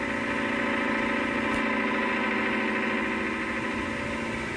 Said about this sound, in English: the 55 horsepower tractor, pulling a Bamford Kverneland's 4-furrow 14-inch plough, an implement normally reserved for larger tractors.